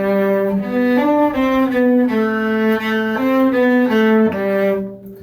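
A solo cello plays measures 39–44 of the Suzuki Book 4 Rondo Grazioso from the Sonata in C Major: a steady, legato melodic line of sustained bowed notes at an even pulse, close and full, with no talking.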